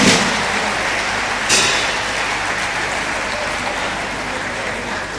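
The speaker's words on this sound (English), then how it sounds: "A round of applause for him, please." Sustained applause from a conference audience honoring Nigeria's first democratically elected president at an international colloquium, a dense, steady wash of clapping that fills the whole span with a brief swell partway through.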